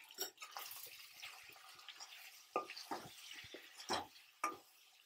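A spoon stirs and scrapes through mutton fry in a pan, with several sharp, close clatters and wet shuffling bursts over a faint sizzle.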